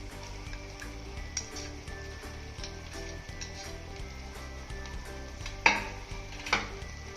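Fried rice with carrots being stirred in a pan, with soft scraping and faint sizzling at a steady low level, and two sharper clinks of the utensil against the pan near the end.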